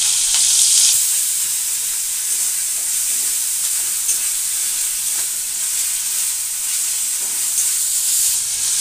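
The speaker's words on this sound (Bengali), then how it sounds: "এটাকে একটু ভালো করে নাড়াচাড়া করে কষে নেবেন" Chopped onion, ginger and garlic sizzle steadily in hot oil in a pan, a continuous loud hissing fry with faint stirring scrapes and no voices.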